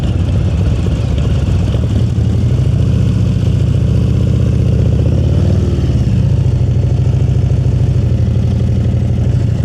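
Motorcycle engine running steadily at low speed during slow-speed riding drills, a continuous close mid-pitched drone with a slight rise and fall midway, no voices over it.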